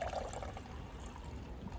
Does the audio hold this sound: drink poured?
yes